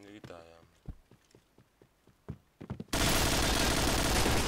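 Gunfire in a tactical shooter game: a string of sharp, separate shots over a short stretch, then a sudden wall of continuous loud noise, with someone speaking briefly at the start.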